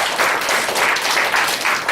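A church congregation marking its 40th anniversary breaks into applause, a loud, dense, continuous roar of many hands clapping that fills the room.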